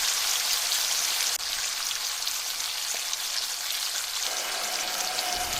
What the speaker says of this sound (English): Onto the plancha and let it sizzle.